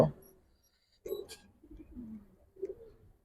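Pigeons, including Giribaz and Chila breeds, cooing in a sturdy cage, giving a few soft, low coos after a brief opening rustle, close by and quiet, with no talk.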